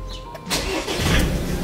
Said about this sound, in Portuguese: Agradecer os mecânicos que arrumaram lá, porque bah, barulhinho do motor.